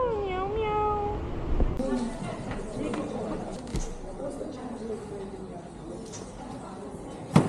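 A cat gives a few drawn-out meows at the start. Voices and street background noise follow, with a sharp knock near the end.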